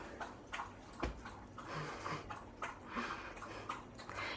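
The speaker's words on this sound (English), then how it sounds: "Pause for the dog lapping up his water." A dog laps water from a bowl in a quiet indoor room, a series of close, wet, rhythmic slurps repeating irregularly for several seconds.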